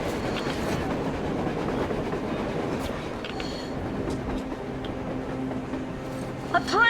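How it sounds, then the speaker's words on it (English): A train runs on rails in the video game Metro Exodus, a continuous low rumble and rattle of wagons rolling past at mid distance, with faint clacks and a brief high squeal near the end. "A train! A damn train on the surface!"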